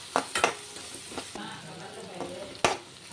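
Onion and tomato frying together in a pan, giving a soft steady sizzle broken by a few sharp stirring scrapes and clicks, with no talk over it.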